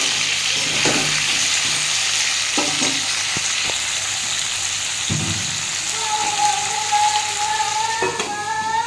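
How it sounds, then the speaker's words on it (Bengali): Steady sizzling of soybean fritters frying in a pan, with occasional stirring scrapes and clinks throughout. "আর একটু নুন দিয়ে ভেজে নেবো এবারে নেড়ে দিচ্ছি আমি একটু চাপা দিয়ে দিয়ে ভাজবো"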